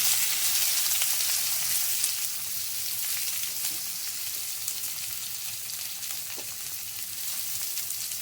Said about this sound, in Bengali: পেঁয়াজটা দিয়ে একটু লাল লাল করে ভেজে নেব